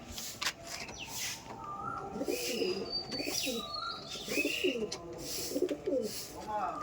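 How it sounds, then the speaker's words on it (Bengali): Pigeons coo softly and repeatedly at close range, with faint chirps and light background noise mixed in. "এটা হচ্ছে মাদি পায়রা"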